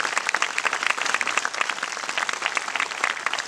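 An audience applauds a group at a public gathering, with steady, dense clapping that continues throughout.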